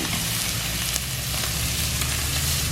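Four steaks sizzling on a smoking barbecue grill, a dense, loud, unbroken hiss close up with faint occasional ticks and no talking.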